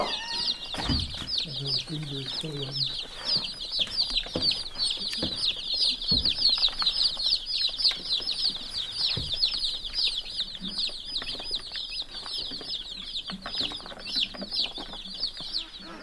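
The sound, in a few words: beef chickens clucking in a brooder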